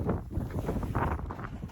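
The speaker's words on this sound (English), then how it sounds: "wind!" Strong wind gusting across a mountain ridge during a snowboarding outing, a steady loud roar and buffeting against the microphone throughout.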